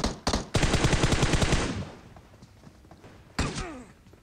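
Rapid bursts of M16 rifle fire in PUBG Mobile, loud and close: a couple of sharp shots, then a dense automatic burst lasting about a second, fading out, followed by another shot with a ringing tail.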